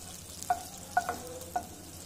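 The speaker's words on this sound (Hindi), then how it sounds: "तेज़ आंच पे आपने इन्हें कुक करना है एक से दो मिनट के लिए हम इसे शेलो फ्राई कर लेंगे" Vegetables shallow frying in oil on high flame, a faint steady sizzle punctuated by three or four short spatula scrapes and taps.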